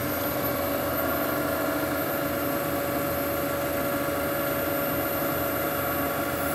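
An engine-driven generator runs steadily at about 1,550 RPM, putting out roughly 80 amps, with a little vibration; a constant close mechanical drone holds an even level throughout with no pauses or voices.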